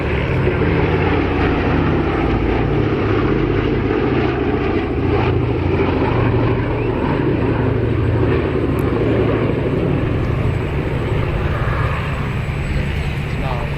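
A vintage aircraft flies at the RAF Cosford Airshow, a steady, loud engine drone that holds throughout with no clear change in pitch.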